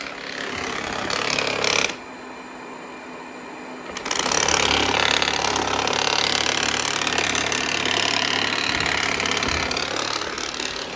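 Loud, harsh mechanical whirring of a Shark IQ self-emptying robot vacuum, about 82 decibels, briefly dropping lower for a couple of seconds before resuming its steady rattling roar.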